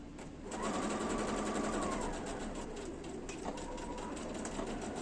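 Sewing machine stitching a plastic-lined fabric pouch, a steady fast mechanical whir that runs throughout at close range, with no voices.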